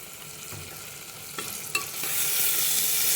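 Turmeric being stirred into ginger-garlic paste in a pan, a soft scraping stir with a few sharp clicks of the spoon against the pan and a rising hiss of frying toward the end, no talking.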